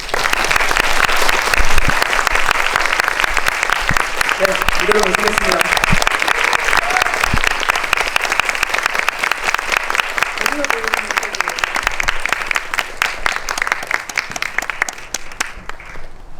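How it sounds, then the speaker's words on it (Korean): A large audience claps loudly and continuously to welcome a film director and actress onto a stage, a dense wash of applause lasting well over ten seconds while a host speaks over it at the start. "저희 큰 박수로 모셔볼까요?"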